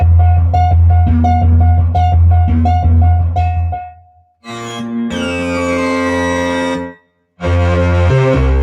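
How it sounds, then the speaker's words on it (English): Deep, thick synthesizer bass tones play in sustained notes, loud and heavy, with brief gaps of silence between phrases. "one oscillator, like one row, is thick enough that you can make a bass sound that's earth-shattering"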